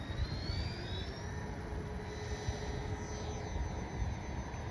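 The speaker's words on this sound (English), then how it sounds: "Very nice takeoff." An RC Twin Otter model seaplane taking off from a lake, its electric motors giving a steady high whine with rising tones over a constant wash of outdoor noise.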